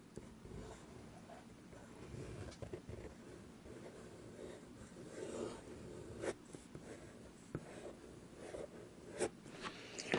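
A bamboo calligraphy pen scratches across paper in a soft, steady, close rasp, broken by a few sharper taps and ticks near the end.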